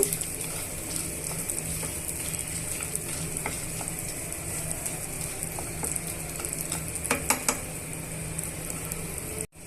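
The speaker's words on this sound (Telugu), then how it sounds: "ఇలా అన్నీ వేయించేస్తామండి" Peanuts and roasted gram for a crunchy puffed rice mixture roast in a pan, giving a steady, close sizzle with occasional stirring scrapes and clinks throughout.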